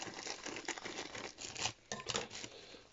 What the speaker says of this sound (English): cut open the bag